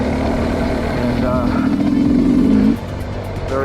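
A 2021 Sherco 300 SE Factory dirt bike is ridden at a steady cruise, its engine droning loud and close with a rising pitch before easing off near the end, under wind noise.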